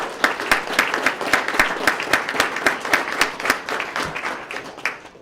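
Audience applause at a police swearing-in ceremony honoring recruiters, a steady room-filling patter of many hands with sharp individual claps standing out, holding for several seconds before thinning toward the end.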